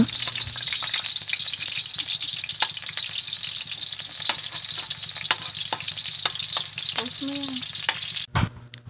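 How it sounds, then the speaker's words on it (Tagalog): Garlic and onion sizzle steadily in hot oil in a pan while being stirred, with scraping and clinks from the utensil and a loud knock near the end. "At kapag golden brown na ang bawang, isunod na natin ang sibuyas. Ayan, halu-haluin lang po natin yan."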